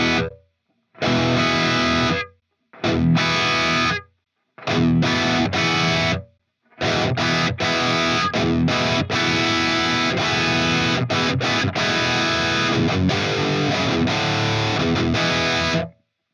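Distorted electric guitar played through a Greenback speaker cab and recorded with a 57 microphone, heard as loud chugging bursts separated by short pauses, then a long sustained riff with no talking.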